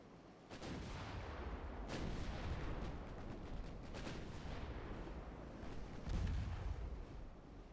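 Naval artillery from 7-inch guns in a naval warfare video game: a sustained barrage of heavy, booming gunfire with several distinct blasts rolling into one another, loud and continuous, with no speech.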